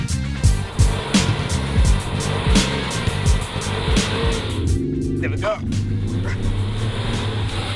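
2023 Range Rover Sport launching hard with launch control, a loud rising engine roar with gear-change dips and tire noise, someone speaking briefly over it.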